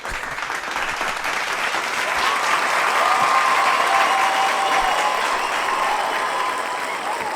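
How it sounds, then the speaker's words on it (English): An audience applauding for several seconds, with a dense, steady clapping that swells slightly in the middle and then holds, and faint crowd murmur beneath it. "Connor, applause for this."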